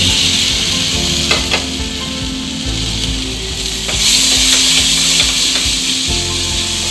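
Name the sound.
Bombil fish sautéing in a pan with spices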